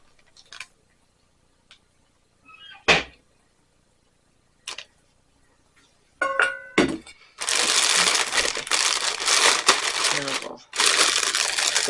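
Plastic zip-top bag of marinade for pork chops being stood up, rolled open, filled and handled, giving scattered crinkles and taps that build into a long, loud stretch of dense rustling near the end.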